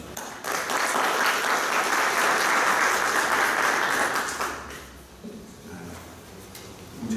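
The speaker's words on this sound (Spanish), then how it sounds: "para quien pido un fuerte aplauso" An audience at an academic lecture on cost-benefit analysis of legislation breaks into loud, sustained applause that fades after a few seconds into quieter room noise.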